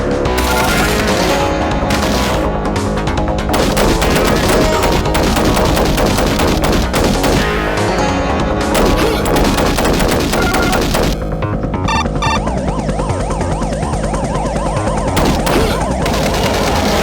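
Loud, nonstop gunfire from a Demolition Man Sega CD full-motion-video shooting segment, dense fusillades and machine-gun bursts with crashes and booms packed together over game music.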